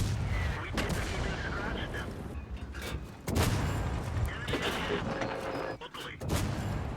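Tank cannons fire in World of Tanks, with several sharp booming shots and mechanical clatter scattered through a dense battle soundscape, while someone talks over it.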